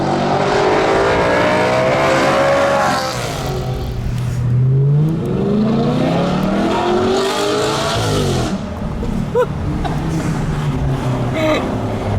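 Naturally aspirated V8 of a 2013 Audi R8 accelerating hard, its revs climbing and dropping through several gear changes in a loud, close, rising and falling roar.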